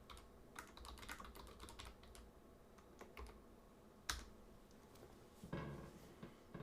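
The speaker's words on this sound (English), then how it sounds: "So I'll type something in." Someone types on a computer keyboard during a live stream, an irregular patter of quiet key clicks with a couple of sharper, heavier strikes, close but faint, with no talking.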